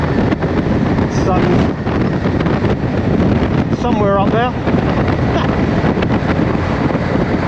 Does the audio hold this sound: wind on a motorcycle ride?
yes